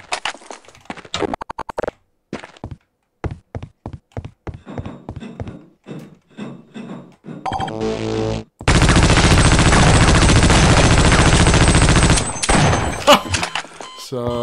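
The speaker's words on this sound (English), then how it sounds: "it's a heavy machine gun" A heavy machine gun in the video game Half-Life: Opposing Force starts with scattered single shots and clanks, then roars into a long, loud, continuous burst lasting several seconds before tapering off.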